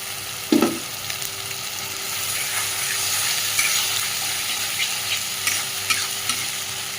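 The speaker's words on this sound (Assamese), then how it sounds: "মছলাটো এতিয়াই ভালকৈ ভাজি ল'ব" A turmeric spice masala fries in oil for matar ghugni with a steady close sizzle, broken by one sharp knock at the start and a few soft scrapes of stirring.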